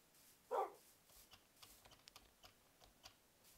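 A single short dog bark from Minecraft rings out early, fairly faint, followed by soft, scattered computer keyboard clicks in an otherwise quiet background.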